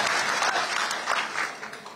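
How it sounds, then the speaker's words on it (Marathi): A crowd claps together at a farmers' protest rally, a dense, steady burst of applause that fades slightly toward the end, heard from within the gathering without speech. "एकदा टाळ्या आपण त्यांच्यासाठी वाजवण्यासाठी"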